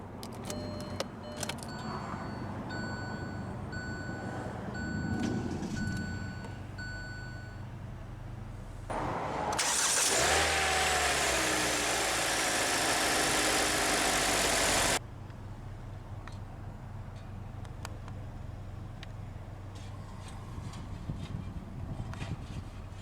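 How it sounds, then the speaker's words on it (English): A 2020 Hyundai Elantra SEL compact car, heard from inside the cabin: a loud, brief burst of starter cranking and catch partway through, then a steady, quieter idle that settles and continues to the end. "let's go ahead and start the engine"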